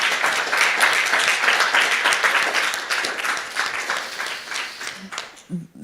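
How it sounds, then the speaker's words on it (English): Audience at a conference panel on climate change breaks into loud applause that gradually thins toward the end, with a voice briefly heard as it fades. "one final round of applause for our wonderful panelists today"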